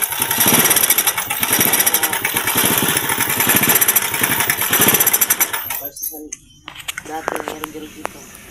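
Loud, close engine running rough and uneven, its sputtering misfire from a faulty, badly tuned carburetor pulsing irregularly before dropping away into sparse knocks; someone talks over it.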